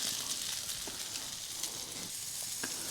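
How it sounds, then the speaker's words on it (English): Vegetables sizzling steadily in a hot pan on a camping trip, a close, dense frying hiss with a few soft scrapes and clicks as they are stirred. "let's just give the veggies a stir"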